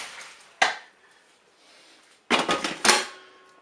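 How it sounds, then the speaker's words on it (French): Boiled potatoes drained from a cooker's metal bowl: a sharp metallic clank, then quiet, then bursts of pouring, splashing water with a further knock, close and clear with no talk. "je vais prendre ma cuve et je vais égoutter mes pommes de terre"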